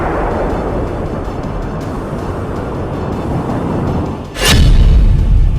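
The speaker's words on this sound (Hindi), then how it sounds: "धमाका नंबर 1," A steady roaring rumble is cut by a sudden loud missile explosion, followed by a deep, sustained booming roar.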